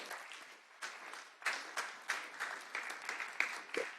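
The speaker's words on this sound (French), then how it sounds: "Merci de l'applaudir." Applause from a seated audience at a round-table conference, moderate and somewhat distant, with a rhythmic pulsing of clapping hands that carries on throughout.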